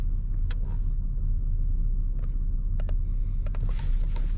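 A car engine idles with a low, steady rumble close by, broken by a few faint clicks and clinks.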